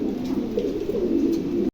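A pair of Mundian pigeons, an adult male and female of the eight-feathered-tail kind, coo in a low continuous murmur close by, with no pauses across the whole stretch.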